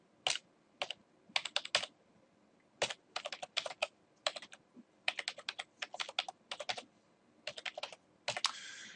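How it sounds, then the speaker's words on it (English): Keys clatter on a computer keyboard as a web address is typed, in quick bursts of clicks separated by short pauses, close and fairly quiet with no voices. "I'm going to go in here and just type in a URL."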